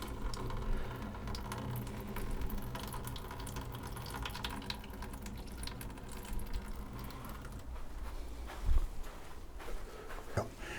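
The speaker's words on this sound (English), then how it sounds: "we give this a good soaking, and I do it until it starts seeping out again" Water pours steadily over a potted cactus and soaks through the soil, with a continuous, close trickle that gives way near the end to a few soft knocks and handling sounds.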